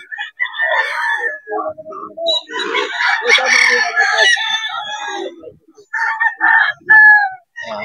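Cuban Grey gamefowl roosters crow loudly and close by at a gamefowl sale, several overlapping crows and clucks following one another, with a little talk in the background.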